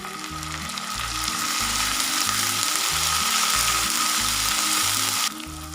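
Tomatoes dropped into a pan of browned ginger-garlic paste fry with a steady, loud sizzle, broken by a repeating low rhythmic scraping or ratcheting thump from stirring that runs through the whole stretch, with no talking.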